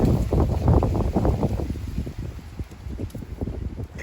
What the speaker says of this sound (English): Even windier today.